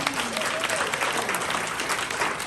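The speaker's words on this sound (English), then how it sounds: "I think we need to give him a round of applause for that" An audience applauds in honor of a Sergeant Major, a dense, sustained round of clapping from a crowd, loud and continuous throughout.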